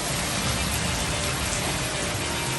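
Steady rain falls continuously as a loud, even hiss and patter with no pauses, outdoors amid the monsoon downpour.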